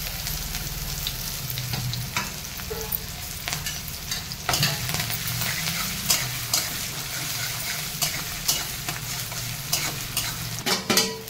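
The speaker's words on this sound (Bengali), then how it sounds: "তেল গরম হয়ে গেছে, আমি রসুনগুলোকে আগে দিয়ে দেবো।" Garlic fries in hot oil while being stirred, a loud steady sizzle with frequent scraping strokes of a utensil against the pan, close and without speech.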